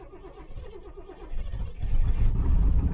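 A skid loader engine starting in bitter 8°F cold, rising from a low, strained crank into a louder, steady rumble that grows through the end.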